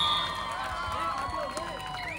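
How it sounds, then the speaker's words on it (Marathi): Crowd at a kabaddi match in Chiplun cheering and clapping with whoops, a steady lively roar throughout with voices mixed in. "जोरदार टाळ्या होऊन जाऊ दे या खडपोलीच्या आदर्श नागरिक आणि माजी कबड्डी खेळाडूसाठी"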